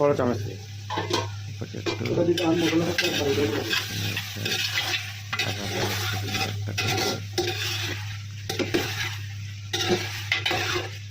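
Spices being stirred in a cooking pot, repeated scraping and clinking of a utensil against metal over a low frying sizzle and a steady hum, close by with voices talking throughout.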